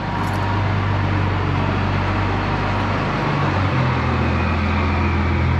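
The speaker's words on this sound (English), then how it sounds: "I hear a dump truck coming around." A dump truck engine rumbles steadily close by, a deep continuous drone that shifts pitch partway through as it moves.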